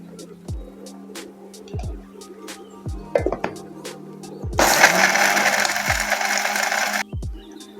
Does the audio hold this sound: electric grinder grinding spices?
yes